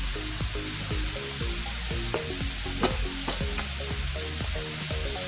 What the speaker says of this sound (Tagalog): igisa muna natin mabuti sa mantika ang ating sayote